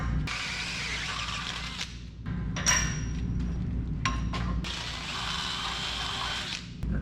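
A power drill bores holes out to 9/16 inch with cutting fluid during fabrication on a 1963 IH Loadstar truck, running in loud steady bursts with brief pauses and changes in pitch.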